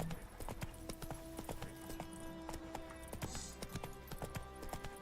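Horse hooves in Witcher 3, a steady rhythmic clip-clop of a ridden horse moving at pace, close and fairly quiet, with no talking.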